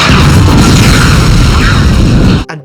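A loud, sustained roaring film explosion from the movie Contact fills the scene, dense and rumbling, then cuts off abruptly into silence near the end.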